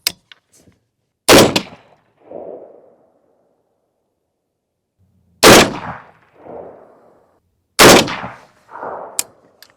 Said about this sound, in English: got the weapon loaded up. See if we can get it zeroed.